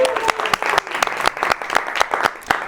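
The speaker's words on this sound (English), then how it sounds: "Let's clap for them." A live talk-show audience applauding a house band, a short burst of brisk, rhythmic clapping at moderate loudness.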